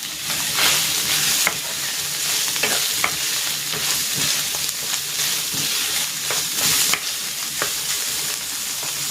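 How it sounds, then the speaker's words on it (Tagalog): Shredded chicken sautéing in a pan, with a steady broadband sizzle and repeated stirring scrapes and clicks throughout, close and fairly loud, no voices. "And igisa ko na dito yung hinimay kong chicken."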